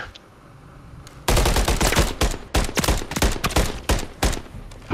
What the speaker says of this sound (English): Oh my god, Vaughn is shooting